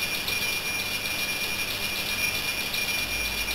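A Trenitalia regional train from Treviso Centrale to Padova rolls into platform 2, a steady loud rumble with high metallic wheel squeal running throughout and no voices.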